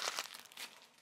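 Cymbal packaging being torn open by hand, without scissors: brief, close crinkling and crackling of plastic wrap in a few quick bursts, with a sharp final rip at the end.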